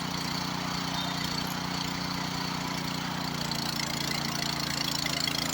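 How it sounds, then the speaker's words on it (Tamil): A 5 HP petrol water pump engine drones steadily and continuously nearby while pumping water on a farm, a constant rumbling hum with no pauses and no voices. "இன்ஜின் சவுண்டு மாறிச்சு பாருங்கள், டிஃப்ரெண்ட்டாக கொஞ்சம் மாறி இருக்கு இன்ஜின் சவுண்டு."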